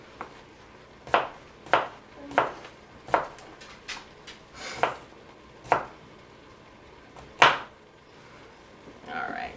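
A knife chopping potatoes into chunks for split pea soup, with distinct sharp thunks on a cutting board at an irregular, unhurried pace, close up in a quiet kitchen.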